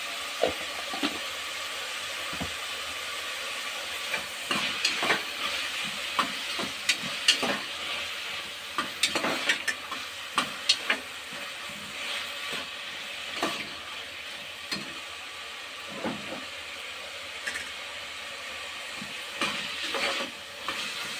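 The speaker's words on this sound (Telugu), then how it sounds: "మంచిగా నూనెలో ఫ్రై అయిన తర్వాత ఒక 2 నిమిషాలు మంచిగా ఫ్రై అయిన తర్వాత" Ginger-garlic paste frying and being stirred in hot oil in a pan for Telangana-style khichdi, a steady close sizzle broken by repeated scraping stirs, with no voices.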